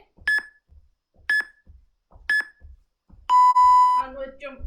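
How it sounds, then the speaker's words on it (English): Three short electronic beeps at a steady one-second pace, then a longer, lower tone; a voice begins speaking just after. "Those beeps mean 10 seconds to go."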